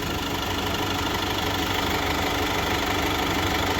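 Nissan Navara engine idling while still warming up, a steady, even mechanical hum and ticking heard up close, unchanging throughout with no voices.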